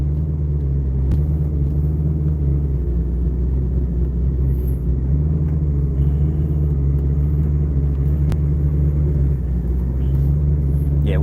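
A car drives slowly into a garage with a loud, steady low engine rumble that holds close and even throughout, with no talking.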